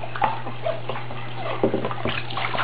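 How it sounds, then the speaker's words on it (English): Warm water running and splashing while a rabbit's water dish is rinsed, a continuous gush with irregular sloshes and splatters, close by, over a steady low hum. "take the water dish or food dish and rinse it out"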